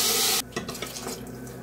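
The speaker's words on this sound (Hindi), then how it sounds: "पानी को ऐड कर दिया है" Water poured into a cooking pot while making sambhar, a loud broadband rush for the first half-second that cuts off abruptly, followed by softer clinks and settling sounds with no talking.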